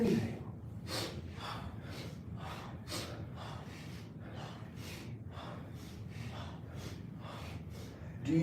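Deep breaths are drawn in and out during a yoga twist, a soft, steady series of airy inhalations and exhalations repeating about once a second, quiet and close.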